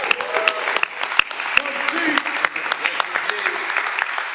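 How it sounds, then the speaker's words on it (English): An audience at a hip hop gathering breaks into loud, sustained applause with sharp individual claps over a busy crowd wash, and a voice speaks over it. "And everybody, please give my brother Fred Buggs a hand"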